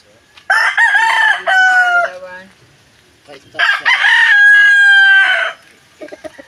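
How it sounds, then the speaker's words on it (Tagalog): Roosters at a rural hut crow loudly up close, two long crows separated by a pause, followed by a few short clucks from chickens. "Puro mga manok."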